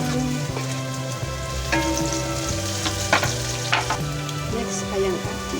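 Onion sizzling steadily in a hot pan, a loud, dense frying hiss with repeated stirring scrapes and an occasional clink of the spatula, no voices.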